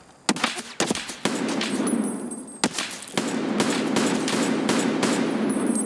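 Gunshots fired through a door in Escape from Tarkov: a few sharp, loud single cracks with ringing tails, followed by sustained rumbling fire and muffled impacts at moderate distance.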